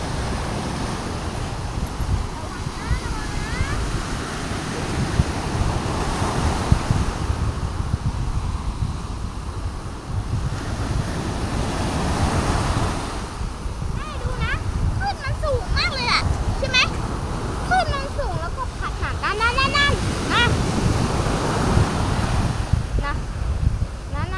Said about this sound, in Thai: อากาศทะเลน่ากลัวมากนะทุกคน คลื่นสูงมากเลยนะคะ